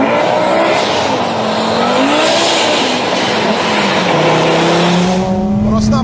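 An Audi Sport Quattro rally car engine is held at full throttle on an ice track, a loud, close, sustained roar whose pitch climbs and falls as the revs change.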